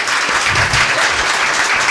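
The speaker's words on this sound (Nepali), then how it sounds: "हामी उहाँलाई जोरदारसँग ताली मारेर हामी स्वागत गर्नेछौँ" An audience applauds loudly and steadily to welcome a chief guest at a cultural programme, a close, dense wash of many clapping hands.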